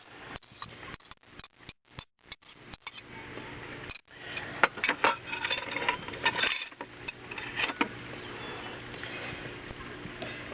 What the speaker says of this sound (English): we're just going to drop that into the skillet